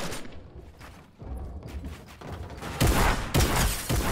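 Gunfire in the video game Fortnite, a series of sharp bursts and booming shots, some nearer and louder, rattling in quick clusters over a noisy game background.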